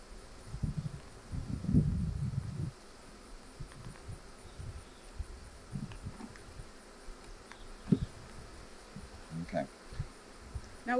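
Honey bees moving into a new hive buzz in a soft, uneven swarm hum, with a louder burst early on and scattered knocks and handling sounds throughout.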